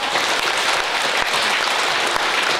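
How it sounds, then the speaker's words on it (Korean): A crowd at a Buddhist temple ceremony, the Geumsansa founding anniversary and bodhisattva precepts rite, applauds in a dense, loud, continuous roar of clapping that holds steady throughout. "근데 박수 한번 쳐요"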